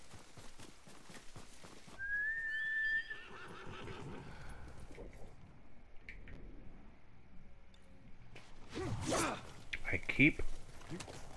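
A horse whinnies sharply in the video game Ghost of Tsushima, followed by hoofbeats clopping and further snorts and neighs, with game-like ambience and faint voice sounds around it.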